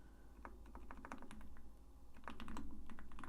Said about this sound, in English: So this is small to where we can just type this out by hand.